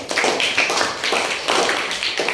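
Children in a classroom clap together in a quick, fairly regular rhythm, the claps close and bright, repeating steadily with no talking over them.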